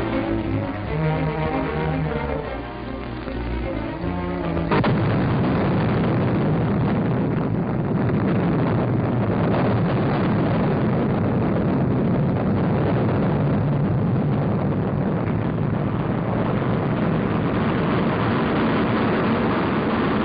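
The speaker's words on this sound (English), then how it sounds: "it hurtles upwards before the enormous thrust of two rocket boosters and the main sustainer engine" An Atlas missile lifts off with two rocket boosters and the main sustainer engine firing. After a sudden ignition it becomes a continuous, loud, roaring rumble that stays steady for many seconds.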